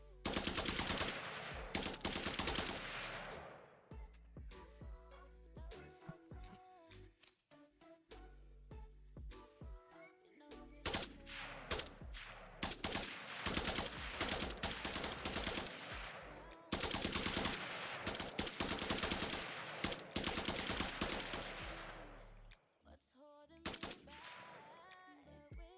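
A top-down shooter game built in Unreal Engine 5 fires loud, rapid bursts of automatic gunfire in long volleys separated by short gaps, with game music and effects underneath.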